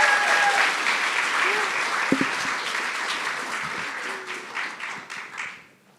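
Audience applause at a national grand final of a student invention competition, a dense wash of clapping that holds steady for several seconds, then thins and fades out near the end.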